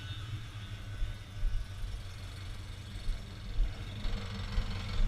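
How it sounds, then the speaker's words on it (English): A Ford truck fitted with a Flowmaster exhaust idles with a low, steady rumble up close, its deep burble holding an even pulse with occasional slight swells and no voices. "Flowmaster exhaust sounds killer"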